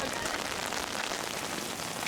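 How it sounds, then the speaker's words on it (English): Heavy rain pours down steadily during an outdoor ultra race event in Ranchita, a dense, even hiss that fills the whole clip with no gaps and no voices. "the rain was really coming down"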